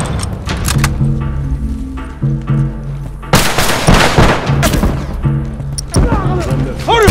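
Gunfire sounds in a The Last of Us Factions multiplayer match. Loud bursts and sharp cracks break through a bed of game music and effects, with voices talking at points.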